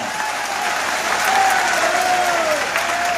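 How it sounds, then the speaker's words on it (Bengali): Crowd applause at a West Bengal BJP political rally: loud, dense, sustained clapping from a large audience filling the whole moment, with a faint tonal whine running through it. "একবার হাততালি হয়ে যাক জুডিশিয়ারির জন্য"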